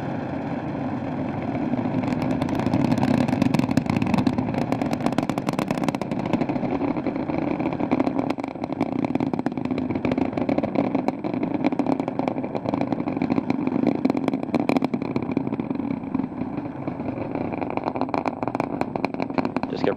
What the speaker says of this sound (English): Engines are now throttling down as the orbiter passes through the area of maximum pressure